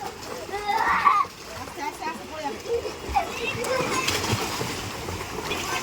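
A girl splashes while swimming in clear water, with bursts of splashing and general watery noise, and voices talking throughout.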